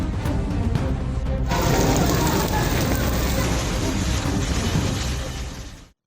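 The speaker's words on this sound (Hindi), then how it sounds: "बड़े बड़े ओले हैं जी।" Heavy hail with rain pelting down during a storm in Multan, Pakistan, a dense continuous clatter and hiss that stays loud throughout before stopping abruptly at the end.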